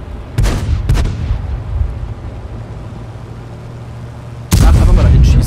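A tank cannon fires in World of Tanks, an artillery tank, with two quick booming shots early on followed by a rumbling engine bed, then another heavy loud blast near the end.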